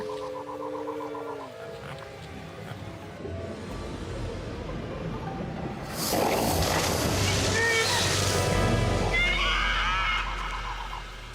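Propaleotherium, an early horse, whinnies in a long, strained neigh over steady ambient noise in a dramatized prehistoric scene, with louder rushing and splashing sound rising partway through.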